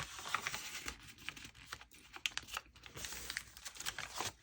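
Paper journal pages being folded and creased by hand, close crinkling and rustling with soft taps and scrapes in an uneven rhythm, no talk.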